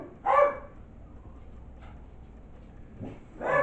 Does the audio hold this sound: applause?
no